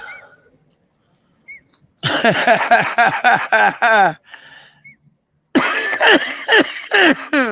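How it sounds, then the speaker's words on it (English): Two bursts of rapid, harsh coughing, each a quick string of several hacks, close by, separated by a short pause with a faint voice. "You made me cough, man."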